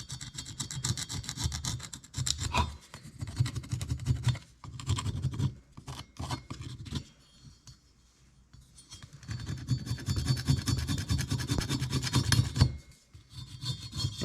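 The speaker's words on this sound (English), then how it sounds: "Actually, some of that I can scrape off. I'll try a plastic scraper, see if it gets it." A plastic scraper rasps deposits off engine valves from a John Deere STX38 engine, in bursts of rough scratching strokes separated by short pauses, close up and fairly quiet, with no talk.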